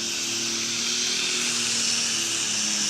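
A pulling tractor's engine screams at high revs during a tractor pull, a loud sustained whine with a steady pitched drone, slightly rising and holding throughout without talk.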